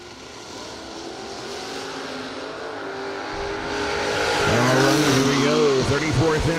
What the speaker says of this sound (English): The Corvette Roadster be going up against Vinnie Martin